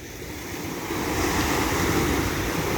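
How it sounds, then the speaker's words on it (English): Ocean surf at Caspersen Beach rolls in as a steady, loud broadband wash with some wind noise on the microphone, swelling slightly partway through and continuing unbroken with no voices. "there aren't as many waves coming through."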